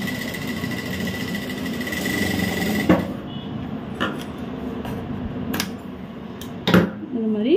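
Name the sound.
sewing machine stitching a baby dress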